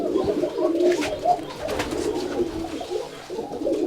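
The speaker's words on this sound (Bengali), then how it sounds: "এই যে একটা কবুতর দেখতে পাচ্ছেন" A pigeon coos steadily and close by at a Rajshahi Giribaj pigeon farm. Other birds chirp and flutter around it, and the birds keep up a continuous murmur for the whole stretch.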